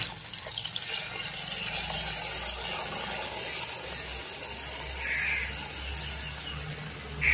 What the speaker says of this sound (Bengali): সর্ষের বাটিটা দিয়ে সামান্য জল দিচ্ছি।